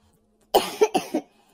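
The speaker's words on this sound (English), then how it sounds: "I did not mean to cough into the mic" A short, close cough of about four quick bursts, loud and right against the microphone, with silence before and after.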